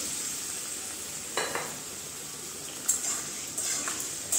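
Marinated chicken going into a pan of fried onions for chicken korma, a steady soft frying hiss with a few brief louder bursts of sizzle and stirring, close and with no talk.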